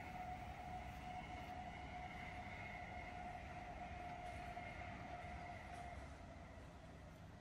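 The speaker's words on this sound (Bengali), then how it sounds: "Yeah, that's the high speed train." A high-speed train rushes past on an elevated line near a market in China, a steady distant roar with a sustained whining tone that fades slightly toward the end.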